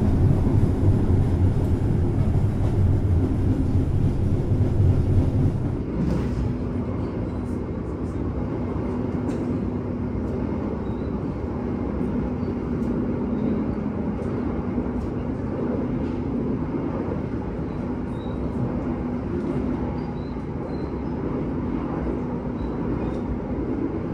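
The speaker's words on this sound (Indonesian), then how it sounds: "kereta api Sembrani persiapan melintas di stasiun Cikampek" A Sembrani passenger train passes Cikampek station in Indonesia, giving a steady, fairly loud rolling rumble that stays even throughout, with no voices.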